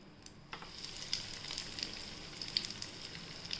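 Food fries in hot oil with a steady bright sizzle, crackling pops scattered across it and a stir or scrape near the start, close and alone with no voices.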